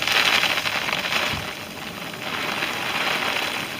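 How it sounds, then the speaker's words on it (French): Dense, steady pattering of hailstones striking surfaces all around outdoors at a carp-fishing spot, a loud continuous clatter with no voices. "Tempête de grêle."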